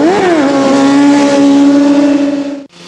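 Motorcycle engine revving hard and steadily as the rider clutches up into a wheelie, a loud sustained drone that dips briefly at the end before picking up again.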